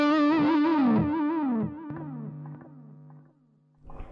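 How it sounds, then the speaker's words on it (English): Electric guitar through a Marshall Haze 15 amp with echo engaged, a sustained distorted note wavering and repeating as the echo trails and fades, followed by a softer note at the end. "if I do want, let's say, the echo, then I bring it up so it's on green"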